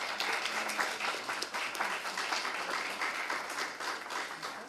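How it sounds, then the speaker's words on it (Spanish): An audience at a panel discussion applauds in welcome, a steady moderate wash of many hands clapping at a distance, sustained without pause. "a quien recibimos con un caluroso aplauso"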